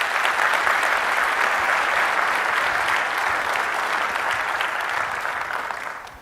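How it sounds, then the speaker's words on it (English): Sustained, loud applause from a conference keynote audience, dense and even for about six seconds before tapering off at the end. "I would like to give them a round of applause for putting on a great conference this year"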